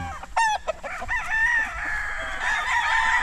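A gamecock crowing nearby among other roosters, a loud harsh call with clucking fowl in the mix, crowing calls overlapping through the whole short stretch.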